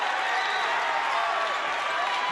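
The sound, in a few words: basketball crowd cheering in gym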